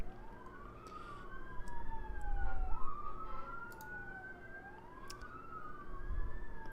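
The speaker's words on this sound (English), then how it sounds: "Sorry for the sirens, y'all." Emergency vehicle sirens wail outside at a distance, rising and falling in repeated sweeps over faint background traffic rumble and a few short knocks, fairly quiet overall.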